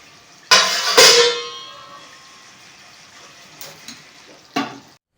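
Meat and onion sear in a plate-covered pan for kosha, opening with a loud hiss of sizzling that slowly fades into gentle frying, then a sharp metal clank near the end.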